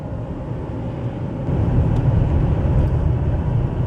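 Steady road and engine rumble from inside a 2011 Dodge Charger driving at night, a continuous low drone that swells slightly louder midway as the car picks up speed, with no talking.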